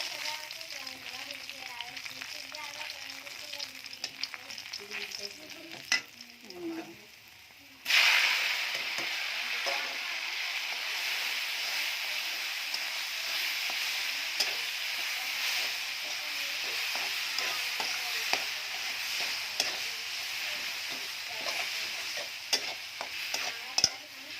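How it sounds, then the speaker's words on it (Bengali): After quiet scraping in a pan, a sudden loud sizzle erupts as sweet potato leaves and Malabar spinach hit hot oil with frying garlic, then a steady frying hiss continues with occasional stirring. "রসুনটা ভাজা ভাজা হয়ে গেলে শাক দিই।"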